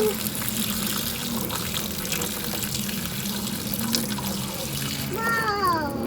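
Water from a tap pours steadily and splashes into a child's outdoor water table, a constant rushing stream, and a voice briefly chimes in near the end.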